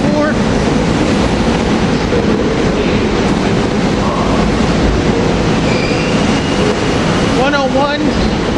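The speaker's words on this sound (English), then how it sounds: "Our train is here to Doylestown." A SEPTA Silverliner IV commuter train rolls through 30th Street station with a loud, steady rail rumble, and wheels squeal near the end.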